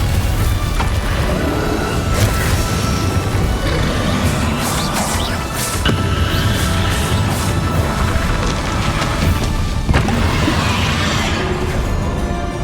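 Confringo blasting spells set off repeated explosive bursts and crashes during Hogwarts Legacy combat, layered over dense, continuous game noise and rumble for the whole stretch.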